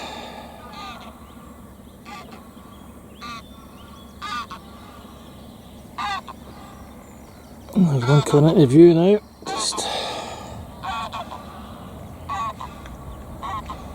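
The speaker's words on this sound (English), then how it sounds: "You can see the two geese swimming in the water there." Geese swimming on water honk in a short burst of loud calls amid quiet outdoor ambience, with someone speaking occasionally nearby.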